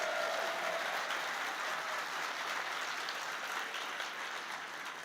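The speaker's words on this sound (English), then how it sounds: "Can we give it a round of applause?" A crowd applauds at the grand opening of the Martin Luther King Jr. campus of the Cleveland Public Library, dense sustained clapping holding steady and loud throughout.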